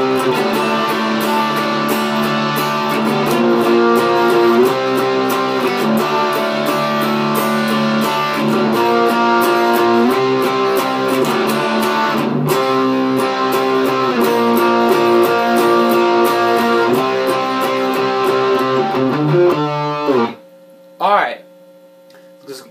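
An electric guitar plays a riff, a steady chugging pattern of repeated chords with strong hum, ending in a few sparse plucked notes after the riff stops.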